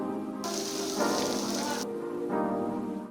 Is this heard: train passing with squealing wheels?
no